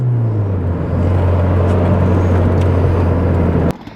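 An MG ZS TD 115 car driving hard around a roundabout, its engine giving a steady, low, close drone under heavy road and wind noise, then stopping abruptly near the end.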